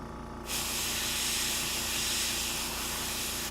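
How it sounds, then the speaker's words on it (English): An airbrush run from its compressor gives a steady, close airy hiss that starts abruptly after a brief quiet moment, as paint is sprayed onto figures, with a faint mechanical hum underneath. "Now I've got my new airbrush."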